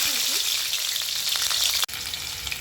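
Green chillies frying in hot oil with cumin in a kadhai for egg bhurji, a steady close hiss and crackle of sizzling that runs throughout, briefly cut off near the end before resuming.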